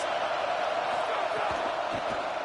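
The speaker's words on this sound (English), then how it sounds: "Listen to this crowd just shaking the girders of this place, trying to help their defense." A stadium crowd at a football game roars in a dense, steady wall of cheering and yelling, loud and continuous throughout.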